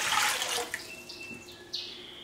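Six cups of water poured into a cooking pot for orange-flavored rice pudding: a close splashing gush that thins into lighter trickles and a few brief drips.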